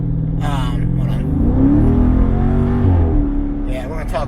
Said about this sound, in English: you might have heard as this car entered, it was revving